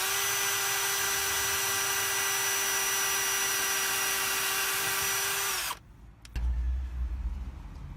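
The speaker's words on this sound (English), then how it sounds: "I'm just going to drill a pilot hole because this bamboo is really tough," A power drill bores a pilot hole into a tough bamboo kitchen worktop inside a Mercedes Sprinter camper van, a loud steady high-pitched whine for over five seconds that cuts off abruptly, followed by a short low rumble.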